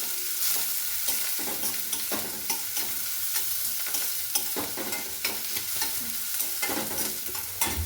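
Onion frying in hot oil for mirchi bhaji, with a continuous sizzle and repeated scraping stirs of a spoon in the pan, close and steady with no talk.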